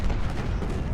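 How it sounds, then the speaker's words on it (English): Artillery fire in the Civil War strategy game Ultimate General: Civil War, a heavy, continuous rumble of cannon booms rolling together into one loud, low roar with no pauses. "And our artillery is about to unload again."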